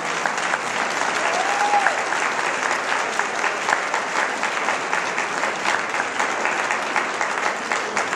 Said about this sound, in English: Let's give a big round of applause for all the candidates.